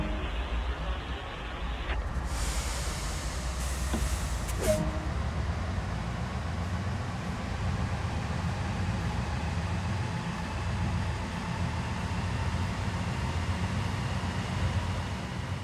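A heavy freight train in Train Sim World 2 begins to move on Sand Patch Grade. A few mechanical clicks and clunks come first, then a steady, low, close rumble builds and carries on.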